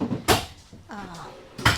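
A kitchen drawer in a 2026 Grand Design Reflection 303RLS RV slides open and shuts, giving two short knocking thuds with a brief scrape between them, close and fairly loud in a quiet room.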